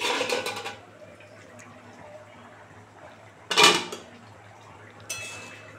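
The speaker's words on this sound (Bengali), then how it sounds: "বন্ধুরা ঢাকনাটা খুলে দেখি কেমন হলো" A metal lid is lifted off a pot of simmering red lentil dal, giving a brief clattering clank followed by a lighter metallic tap, close, amid otherwise quiet kitchen background with no speech.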